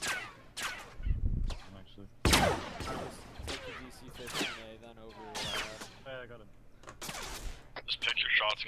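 Sharp gunshots crack repeatedly in Arma 3, single and clustered reports scattered near and far, mixed with players talking.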